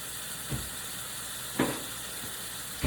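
A continuous soft sizzle of vegetables sweating in a pan, steady and hissing, with a few light clinks or stirs.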